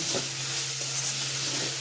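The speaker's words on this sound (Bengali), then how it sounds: "কড়াতে দিয়ে ভাজা ভাজা করে নিচ্ছি।" Capsicum, onion and tomato frying in a wok, a dense, even sizzling hiss that stays steady and close throughout the short stretch, with no voices.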